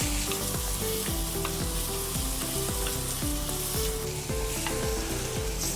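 Shallots and tomatoes fry in a pan for a coconut-based Kerala crab curry, a loud steady sizzle with repeated stirring scrapes throughout and no talking.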